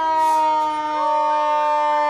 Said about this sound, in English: I'm not sure if these sirens are loud enough.